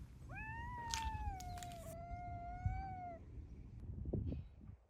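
A cat in a garden on Crete gives one long, clear, drawn-out meow close by, followed by faint rustling and soft outdoor background noise.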